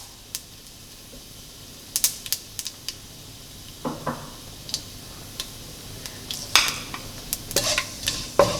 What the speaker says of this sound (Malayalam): കടുകൊന്ന് പൊട്ടിക്കഴിയുമ്പോഴത്തേക്കും അതിലോട്ട് നമ്മൾ എടുത്തു വച്ചിരിക്കുന്ന ജീരകം ഇടാം.